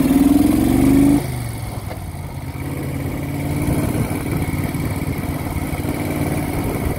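Engine of a 1970 Moto Guzzi Ambassador, an original four-speed motorcycle, heard while riding. A loud steady engine drone runs throughout, with a brief higher pitch at the start.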